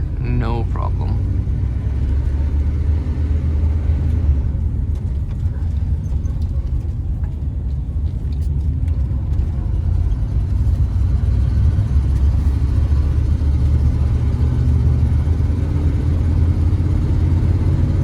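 A car engine rumbles steadily from inside the moving vehicle in traffic, low and continuous throughout, while a person talks over it.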